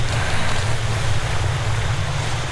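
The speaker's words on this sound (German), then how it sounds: "Das hört sich ja an wie ein Wasserfall." Steady rushing, roaring water like a waterfall in the VR horror game Blair Witch VR, a dense continuous wash of noise with strong low rumble and no pauses.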